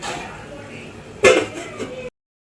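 A metal lid set down onto a cooking pot on the stove during rice and vegetable biryani preparation, one clear clinking knock with a smaller clatter after, over quiet kitchen background.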